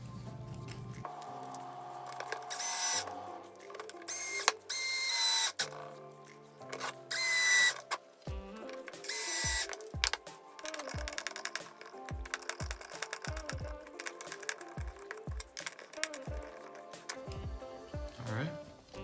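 A power driver whirs in repeated short bursts with ratcheting clicks while screws go into a Traxxas Slash 4x4 LCG chassis, close and fairly loud, separated by pauses and handling noises.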